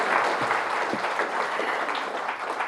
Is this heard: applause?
yes